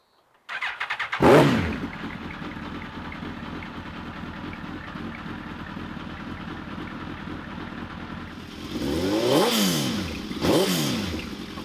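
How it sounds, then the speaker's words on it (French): A 2001 Suzuki GSX-R1000 motorcycle cranks and fires up sharply, then settles into a steady, loud idle before two strong revs near the end, with no talking. "Normalement, c'est une Suzuki, elle démarre tout de suite."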